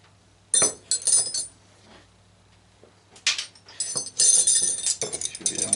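Metal bolts clink and rattle in bursts while being removed from a big old electric motor being scrapped for copper, close and fairly loud with quiet gaps between the clusters of clinks.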